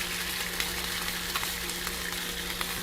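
Sweet sauce mixture poured over translucent cooked onions sizzles and crackles steadily in a hot pan for venison donburi, a dense constant fry with a low steady hum underneath and no voices.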